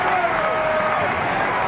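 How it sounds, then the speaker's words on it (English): A football stadium crowd at a 2006 AFC Divisional Playoff game, Indianapolis at Baltimore, roars in a steady, dense wall of distant cheering and noise, with a broadcast commentator's voice running over it. "Boy, does Ray Lewis get this crowd energized at the start of a game"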